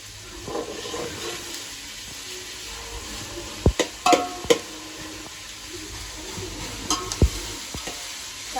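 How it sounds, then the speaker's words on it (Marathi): Onions fry in a pan over a wood-fired chulha while biryani is cooked, a low steady sizzle broken by several sharp clinks and scrapes of a spatula against the pan, close and moderately quiet, with no voices. "कांदा फ्राय व्हायलाच लय टाइम लागतो"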